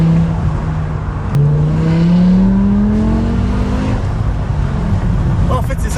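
A BMW M6 with a V10 engine accelerates hard from inside the cabin. The engine tone climbs steadily, then drops abruptly at a gear-shift jolt and climbs again. The drone is loud and continuous.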